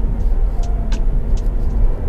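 Toyota Veloz 1.5 cruising on a semi-urban ring road, heard from inside as a steady low cabin rumble of engine and tyres, with faint passing traffic swishes.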